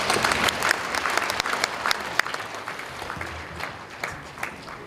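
A church congregation at a 70th-anniversary gathering of the Korean Assemblies of God claps in thanks, a loud, full and continuous round of applause that slowly tapers toward the end.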